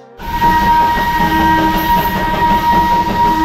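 Darjeeling hill train running close by, its steady horn blaring loudly over the rumble and clatter of the carriages, with no talk.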